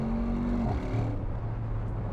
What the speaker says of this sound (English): with the exhaust on, and it sounds mind-blowing